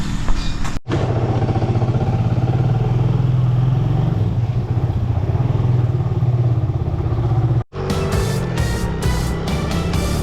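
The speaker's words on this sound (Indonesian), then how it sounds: "Jadi ini motor yang akan saya gunakan nanti untuk pergi ke desa tersebut." A service motorcycle ridden on an asphalt road, its steady mid-pitched engine drone running loud and close with a brief cut near the start and another dip before a rougher, clattering stretch.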